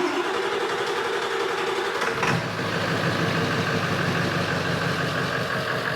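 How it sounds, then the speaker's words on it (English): A Ford F350 with a 7.3 diesel engine and a hard-start fault cranks for about two seconds, then catches and settles into a steady, loud, close rumbling idle. "we still have the long crank, the hard start, but it's running"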